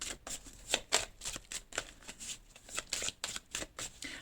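Oracle cards are shuffled in a quick run of crisp riffling bursts, close and fairly quiet, with brief pauses between flicks.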